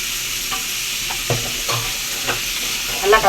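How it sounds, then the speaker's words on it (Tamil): Brinjal and onion sautéing in a pan, with a steady sizzle of frying and a few soft scrapes and stirs of a spoon against the pan, with no talk over it. "நல்லா கத்திரிக்காய் வந்து வதக்கி விட்டுக்குருவோம்."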